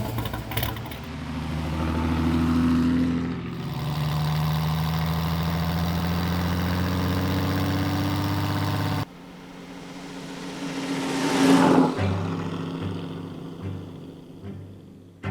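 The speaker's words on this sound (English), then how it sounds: "What we have here is the 1952 Ferrari 340 America." A 1952 Ferrari 340 America, a racing-built car, idles with a steady, close low rumble that shifts in character midway and then swells briefly before settling again.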